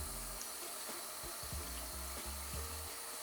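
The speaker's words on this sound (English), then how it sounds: "I'm just going to drain them off and give them a good rinse in cold water" Cold tap water runs over blanched green vegetables being drained and rinsed, a steady hiss of flowing water with a few low knocks and clatters underneath.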